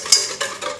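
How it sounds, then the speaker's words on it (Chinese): Separated egg yolks being stirred with white sugar in a bowl give three quick, close whisking scrapes in under a second. "在分离好的蛋黄中加入三十克白砂糖，搅拌均匀"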